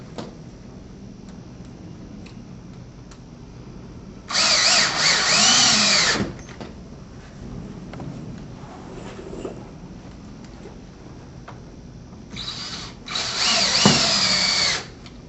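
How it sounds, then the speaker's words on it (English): Power drill driving bugle head screws into pre-drilled holes while installing a T-post deco panel; two bursts of high whining drill noise, the first about two seconds long, the second shorter and broken, near and loud against a quiet background. "we can continue to install the remainder of the bugle head screws into"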